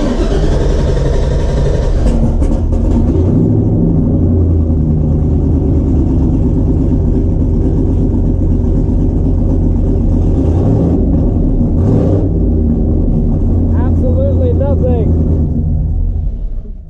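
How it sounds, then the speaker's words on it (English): A car's engine runs with a steady, loud low rumble close by, a few brief clatters and shifts in tone along the way, and someone talks over it. "So I am going to start the car and we'll see if the Tach works."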